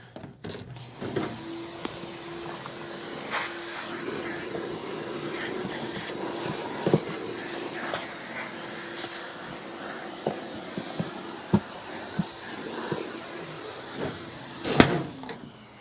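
A Rug Doctor X3 carpet cleaner runs with a steady high-pitched motor whine throughout, a low hum beneath and scattered clicks and knocks, no talking.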